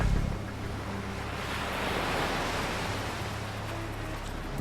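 Ocean waves wash steadily onto a shoreline beside coastal villages, a continuous broadband roar of surf with a low rumble and some wind, loud and close with no pauses or talk.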